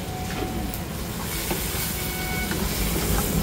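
Mixed vegetables frying in a roadside breakfast stall, a steady loud sizzle with faint clinks of stirring, no voices.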